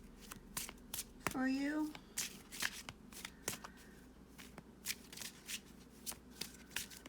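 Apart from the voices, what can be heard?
shuffling tarot cards before pulling a love card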